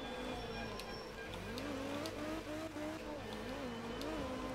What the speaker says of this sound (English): In an absolutely dying and destroyed car.